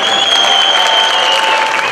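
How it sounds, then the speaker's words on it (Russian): Loud clapping from an audience at a fight event fills the clip, with a steady tonal hum running underneath. "еще раз аплодисменты нашим бойцам"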